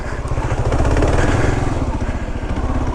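An ATV engine drones loud and close while riding a muddy trail on Prince Edward Island, with a steady pulsing throb that holds throughout.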